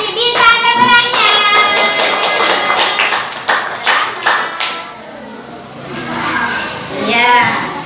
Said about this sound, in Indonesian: Tepuk tangan untuk Opi.